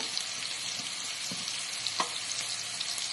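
Potatoes frying with salt in a pan, a steady close sizzle with a few light stirring knocks, no voices.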